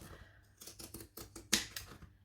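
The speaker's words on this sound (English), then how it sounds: "I like zigzag scissors." Zigzag pinking scissors snip through fabric in a quick run of crisp, close clicks and crunches, one sharper cut standing out near the end.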